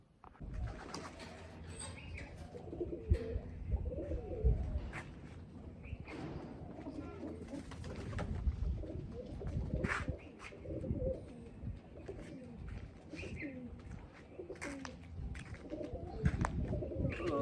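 Low pigeon coos repeat throughout, with occasional wing flutters and faint chirps, and some quiet human sound in the background.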